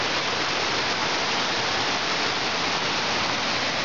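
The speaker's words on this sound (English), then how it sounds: "Beaver Creek Falls." Water rushes at Beaver Creek Falls, a waterfall in a creek, making a steady broadband roar that stays constant throughout with no voices.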